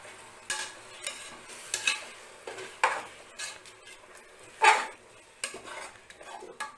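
Tomatoes ground in a mixer are sautéed in a pan, heard as soft frying with repeated scraping stirs and spoon knocks at irregular intervals, close by with no voices.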